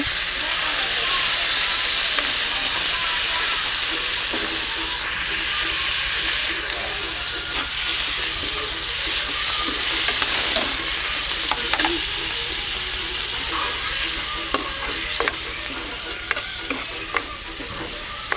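Soybean chunks frying with a loud, continuous sizzle, broken by frequent scraping and clattering as a spatula stirs the pan.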